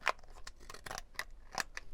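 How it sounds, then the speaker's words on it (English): Decollage scissors cut through paper in a series of quiet, crisp snips and slicing rasps, close and faint, with no talking. "I'm going to cut it with my Decollage scissors"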